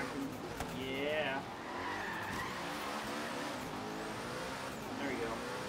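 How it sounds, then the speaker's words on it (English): Tires squeal and an engine roars steadily from a twin-turbo supercar racing in the video game Forza Horizon 3, a continuous loud drive with skidding and revving throughout. "I don't know if you guys can hear the car. Love that sound. Twin turbo mounted on the outside."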